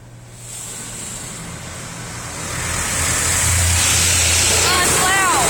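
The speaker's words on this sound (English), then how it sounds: "now here comes a high power rinse" High-pressure water jets blast a car inside an automatic car wash, building into a loud, steady hiss and spray over a low machinery hum, with a voice briefly audible near the end.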